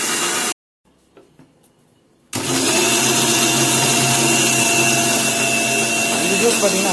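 Bitter gourd with water whirs in a mixer grinder: after a few faint knocks, the motor kicks in loudly and grinds steadily and closely until the end.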